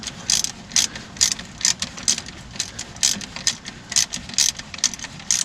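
A 3/8 socket ratchet tightens starter bolts on a small-block Chevy in a demolition derby car. It gives a close, crisp series of rapid pawl clicks in repeated short strokes, with no talk.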